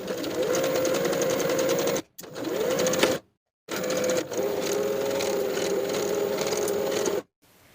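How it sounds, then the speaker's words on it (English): A sewing machine stitches pockets onto a linen summer dress with a 1/4-inch seam allowance, running in steady close bursts with short pauses between seams. "I'll sew each of my pockets in place with a 1/4-inch seam allowance."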